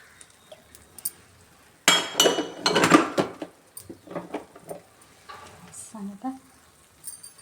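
Oil sizzling in a gunta ponganalu pan on the stove, quiet at first, then sharp bursts of frying crackle with clinks of a spoon against the pan, trailing off into softer intermittent hisses.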